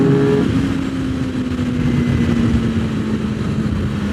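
A Suzuki GSX-R600 sport motorcycle pulls away, its engine drone rising in a steady, loud tone that holds for several seconds with no talk over it.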